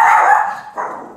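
A dog barks twice, close and loud: one longer bark, a brief pause, then a shorter second bark.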